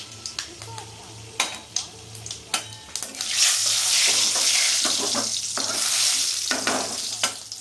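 Chana dal frying in a pan with spoon clatter and scraping at first, then a steady loud sizzle building as coconut is added for Bengali-style chana dal, with a low hum beneath.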